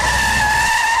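Car tyres squeal in a loud, steady skid under hard braking, a sustained tonal screech heard close and alone.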